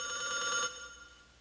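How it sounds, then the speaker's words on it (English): A telephone bell rings with a bright metallic trill that holds for about half a second, then cuts off and leaves a fading ringing tail. "The telephone."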